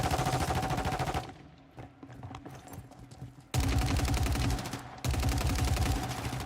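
Gunfire from a shooter video game: loud, rapid bursts of automatic shots that drop away for about two seconds of quieter sound, then return in two dense volleys.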